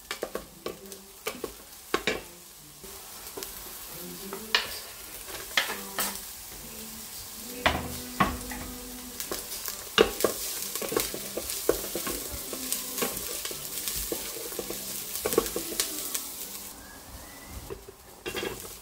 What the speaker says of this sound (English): I'll add the garlic and saute it.